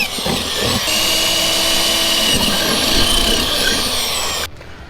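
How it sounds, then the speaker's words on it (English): A power drill whirs loudly and steadily for several seconds as it bores holes for a trolling motor mounting plate on a jon boat, then cuts off abruptly near the end. "let's go ahead and drill out these holes."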